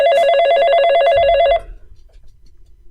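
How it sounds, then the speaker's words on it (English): A telephone rings on a studio line during a sports talk show, a loud repeated electronic trill lasting about a second and a half before cutting off, with low room noise after. "Is your phone ringing?"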